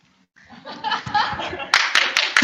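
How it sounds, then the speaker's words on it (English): Audience at a Toastmasters speech event clapping: after a quiet opening, a dense patter of applause builds, with a few sharper bursts of claps near the end and light laughter mixed in. "Applause, applause for unpaid work."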